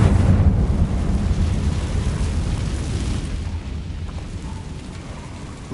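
A loud, deep fiery blast from a Confringo spell in Hogwarts Legacy, a heavy low rumble that slowly fades over several seconds, with no talk over it.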